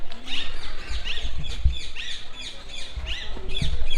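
Parakeets in a zoo aviary at Alipore Zoo, Kolkata, chirping in quick repeated bursts, a dense overlapping chatter of many birds close by.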